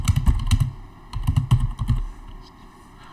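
Typing on a computer keyboard into an Apache OpenOffice document, in two close bursts of rapid key clicks separated by a short pause, with a few faint taps trailing off at the end.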